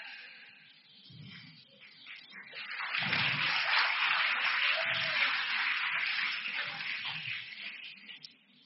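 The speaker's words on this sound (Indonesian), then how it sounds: "Udah nggak usah tepuk tangan." A seated audience claps in sustained, dense applause at an Islamic boarding school gathering, swelling after a few seconds and holding steady before tapering, moderately distant with occasional low thumps beneath.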